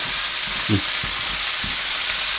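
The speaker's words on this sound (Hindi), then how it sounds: "ये टमाटरों को हल्का सा सॉफ्ट करना है, हमने ग्रिल करने हैं" Cherry tomatoes softening on a grill, giving a steady loud hiss of sizzling with a few soft thumps and stirring knocks mixed in.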